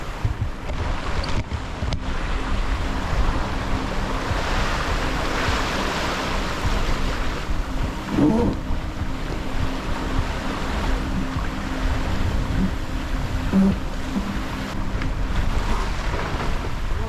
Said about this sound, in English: 22 knots of wind now, it's just getting stupid.